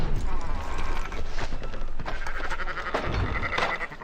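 Sheep bleat repeatedly over a busy game-like soundscape with clattering and mechanical noise, steady and fairly loud throughout.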